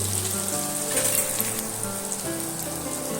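Boiled potatoes with turmeric frying in hot oil for Kashmiri aloo dum, a steady close sizzle like rain with occasional crackles, continuous and fairly loud.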